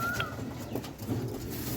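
A pigeon coos softly and close by, a short low murmuring call over faint background noise.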